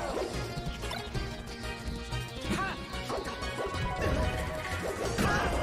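Marth's panic get-up attack landing in Super Smash Bros. Melee, a sharp crash-like hit inside a dense, continuous wash of game effects and crowd-style noise, with a few more impacts following close behind.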